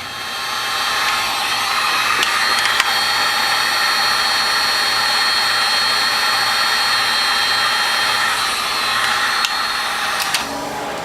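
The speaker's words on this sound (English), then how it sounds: "take a heat gun and heat the valve to make it easier for this Loctite in here to loosen up" A heat gun blows steadily on a stuck hydraulic valve of a Norwalk juicer, a continuous loud, even hiss of hot air with a faint whine, running nearly unbroken for the whole stretch.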